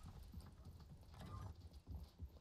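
Horse hooves gallop in a video game, a quick, uneven clip-clop rhythm of thuds moderately close, with no speech over them.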